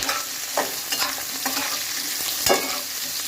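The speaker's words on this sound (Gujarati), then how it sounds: "બાફેલા બટેકા લીધા છે આ બે નંગ બટાકા છે તેને હું એ બાફીને છોલીને આ રીતના ટુકડા કરી લીધા છે હવે આપણે આને તેલમાં સરસ શેકી લઈએ" Peeled, boiled potato pieces frying and being stirred in oil for sago khichdi, a steady soft sizzle with a few louder scraping stirs, close and alone.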